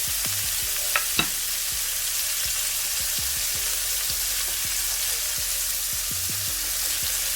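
Onions for fried rice fry in a hot pan with a steady, close sizzle, broken by a couple of sharp clinks and repeated soft knocks of a utensil stirring them.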